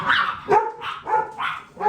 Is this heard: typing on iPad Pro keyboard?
no